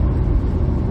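A 1993 Audi 80 Cabriolet with a 2.3 five-cylinder engine drives along, giving a steady, close low rumble and road whir that holds even and unbroken throughout.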